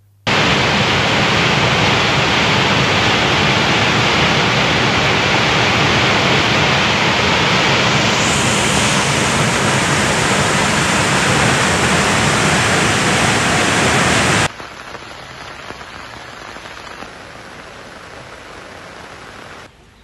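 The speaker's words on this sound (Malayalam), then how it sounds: "കിഴക്കൻ മലയോര മേഖലയിൽ ശക്തമായ മഴ തുടരുന്നു" Heavy rain pours in the hilly eastern highlands of Kozhikode district alongside flooding water, a loud, dense roaring hiss that cuts abruptly to a much quieter background near the end.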